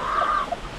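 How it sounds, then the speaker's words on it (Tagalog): Young chicks peep and cluck close by on a farm, a short high-pitched chirp followed by a softer second note. "May sisiyo tayo na manok dito ngayon."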